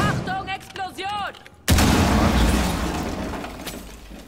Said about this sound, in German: Achtung, Explosion!